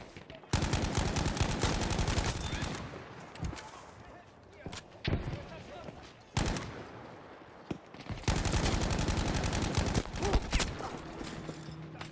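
The player's gun in Battlefield V fires in long rapid automatic bursts, loud and close, with short pauses between volleys and someone talking at times.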